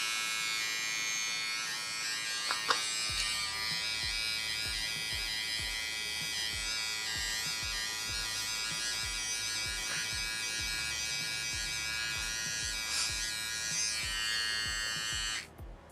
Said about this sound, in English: Let's check out this trimmer and see how it performs.